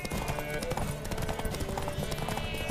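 Steady clip-clopping hoofbeats and a neigh from a horse in The Witcher 3, layered with in-game music and ambient noise.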